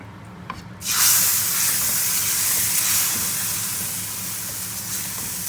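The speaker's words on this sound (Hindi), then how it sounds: "हमने दूसरा तड़का भी उसके अंदर ऐड कर दिया है" A second tadka of onion and chilli tempering hits hot red lentil (masoor) dal with a sudden loud sizzling hiss that bursts in after a quiet moment, then keeps crackling steadily and fades slightly over several seconds.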